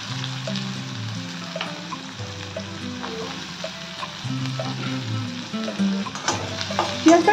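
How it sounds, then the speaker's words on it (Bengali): Onion frying in oil in a kadai, a pinch of asafoetida added first, gives a steady loud sizzle that holds throughout, with faint utensil clinks and tonal noise layered underneath. "পেঁয়াজটাকে হালকা করে ভাজবো"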